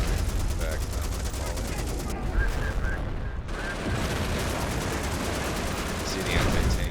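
Artillery and gunfire in the Company of Heroes Blitzkrieg mod battle game: a loud, continuous barrage of shots and blasts with rapid bursts, briefly thinning midway before resuming at full intensity.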